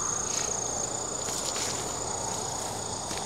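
Grasshoppers and crickets trill steadily on an overgrown hiking path with a green staircase near Cheonan, a constant high insect buzz over soft outdoor ambience, with faint rustling footsteps and no talk.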